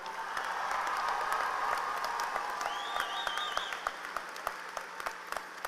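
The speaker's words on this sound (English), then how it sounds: "Let's begin with a huge round of applause" A high school graduation audience applauds performers with a broad, fairly distant wash of clapping and a brief whistle partway through; the clapping thins toward the end into scattered separate claps.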